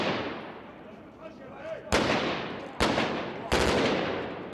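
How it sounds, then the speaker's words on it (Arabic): Sniper gunfire in Maaloula, Syria, sounds as three sharp, loud cracks that cut through a noisy outdoor background, with a voice speaking between the shots. "هلأ نحن فايتين على البلد، صار علينا رصاص"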